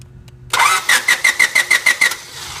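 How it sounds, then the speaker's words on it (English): A car that won't start, its engine cranking without firing while a spark test is under way: a steady, rhythmic whirring of about eight even starter pulses, close and loud, with no catch or idle. "we're going to crank the engine"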